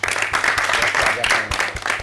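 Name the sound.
audience applauding an artist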